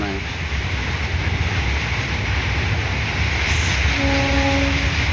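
A train passes on a foggy morning, a loud continuous rumble and rattle of wagons, with a brief horn-like tone sounding near the end.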